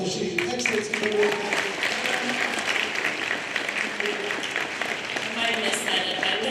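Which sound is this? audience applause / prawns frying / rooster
audience applause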